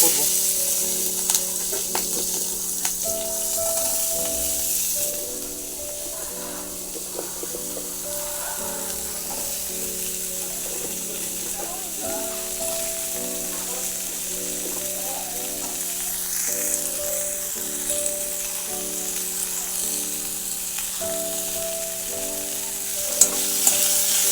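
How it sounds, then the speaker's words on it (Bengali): Spring onion fritters frying in plenty of hot fish oil give a steady, loud sizzle throughout, with a few occasional crackles and a sustained tone running underneath. "এখন পেঁয়াজ কলি ভাজা করবো"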